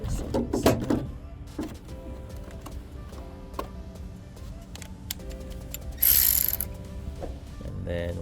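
A ratchet with a 12mm socket tightens the starter bolt on a 2006 Honda Accord 3.0L, producing runs of rapid close clicking strokes, with a brief louder mechanical burst near the end.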